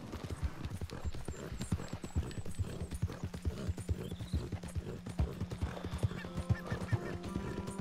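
Horse hooves clip-clop in a steady, dense rhythm while the horse whinnies now and then, heard in Red Dead Redemption 2 on PS4 Pro, with a continuous ambient bed underneath.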